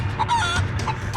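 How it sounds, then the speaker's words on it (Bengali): Cartoon chickens squawking in alarm, a rapid burst of overlapping clucks and shrill squawks, close and loud. "তৎক্ষণাৎ বাকি মুরগিগুলো চিৎকার করে ওঠে"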